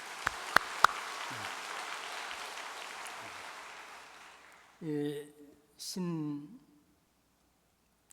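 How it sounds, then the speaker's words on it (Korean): A church worship congregation applauds briefly; the clapping thins and fades over about four seconds, and then a voice begins speaking in a quiet room. "우리 모두를 위해서 박수 한번 보내겠습니다"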